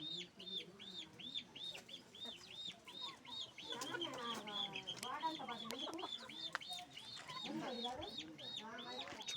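Chickens cluck in a steady stream of short repeated calls in a rural yard, close and continuous, with faint voices underneath.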